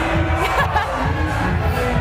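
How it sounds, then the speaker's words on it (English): A crowd cheers and shouts at a climbing competition, a steady, diffuse roar of many voices with no clear pauses. "Everyone's cheering."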